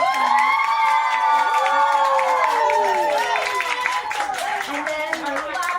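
Audience at a zoo animal show clapping and cheering for a ferret contestant, a loud crowd with children's shrill shouts and squeals over steady applause, continuous throughout.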